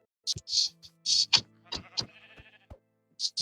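Sheep in the Minecraft video game let out several short, separate bleats against a quiet background, interspersed with game sound effects.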